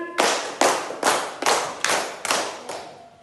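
A classroom of students claps in unison, seven sharp, evenly spaced claps in a steady rhythm, each loud and crisp, with no talking in between.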